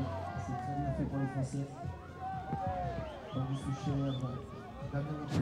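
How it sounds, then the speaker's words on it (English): A crowd of spectators shouts and cheers for France, a steady roar of many voices carrying throughout beneath a commentator's voice. "We can hear the crowd shouting, encouraging France"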